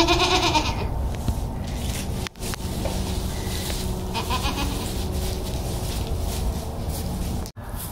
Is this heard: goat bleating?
yes